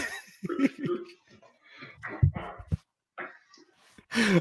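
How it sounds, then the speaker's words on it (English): Dog making short yips, whimpers and barks at close range, scattered in brief bursts between pauses, with people talking nearby. "so that was Lana. Lana's the dog."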